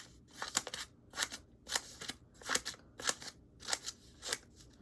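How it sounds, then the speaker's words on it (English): Scissors snip through folded paper in a steady run of about nine crisp, close cuts spaced roughly half a second apart, each a bright rasping slice followed by a brief pause. "I'm just going to fold it in half. And I'm going to snip it like grass."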